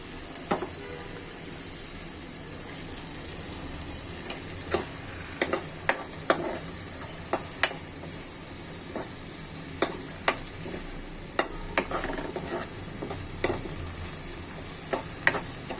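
Tomato sautéing in a pan for a rohu fish curry with bottle gourd peel: a steady, close sizzle with scattered clicks and scrapes of stirring, no talking.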